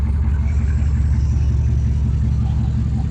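A truck engine idles through a custom exhaust with short turn-downs after the caps, a close, steady deep rumble with an even low throb and no talk.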